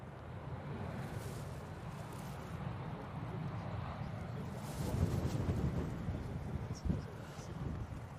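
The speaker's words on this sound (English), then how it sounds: "Oh, and gusts of wind are a bit much for me" Gusty wind buffets an outdoor microphone at Manchester Airport, a steady low roar that swells into stronger gusts midway and near the end.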